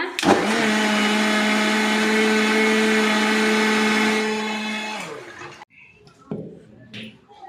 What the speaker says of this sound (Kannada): ಈಗ ಇದನ್ನ ರುಬ್ಕೊಳ್ಳೋಣ